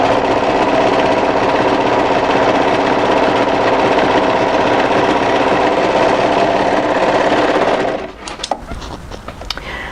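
An overlocker sews sweater seams in a steady, loud, continuous mechanical whir for about eight seconds, then stops, leaving faint handling clicks and rustles.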